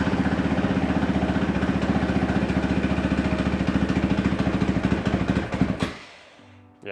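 A cold KTM SMR450 motorcycle engine running at a loud, fast single-cylinder idle with rapid even firing pulses close to the microphone, then sputtering and dying out near the end.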